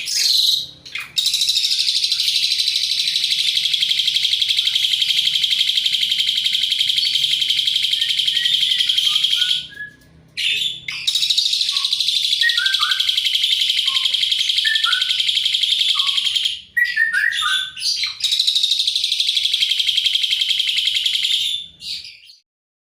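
Asian pied starling (jalak suren) calls in long, loud, sustained shrill bursts separated by brief pauses, with short chirping notes in between, close and clear.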